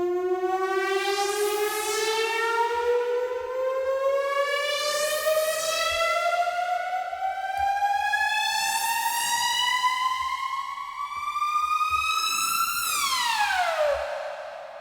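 A synth riser for a house track sweeps upward in repeated rising glides layered with feedback echoes, loud and continuous, then drops sharply near the end over a faint thumping beat.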